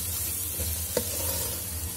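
Potato and pea masala being stirred and fried in a pan at home, a soft steady sizzle with a brief scrape of the spoon near the middle, close and fairly quiet with no talking.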